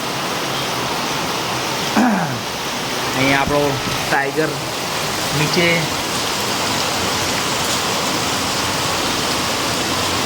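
Heavy rain pours down steadily in Asjol village, a dense, unbroken hiss that soaks a house porch throughout, while someone talks over it and a few brief squeaks cut through.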